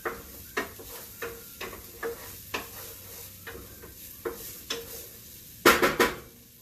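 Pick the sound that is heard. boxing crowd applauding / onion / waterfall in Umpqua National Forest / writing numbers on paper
onion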